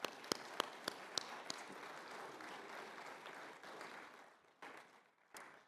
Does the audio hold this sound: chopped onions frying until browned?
no